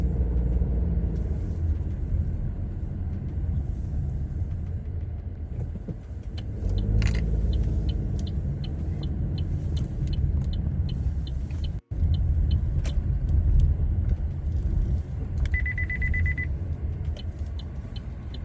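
Car driving in a mall parking lot area: a steady low engine and road rumble continues throughout, with a string of soft regular ticking beeps and a brief chime near the end, no speech.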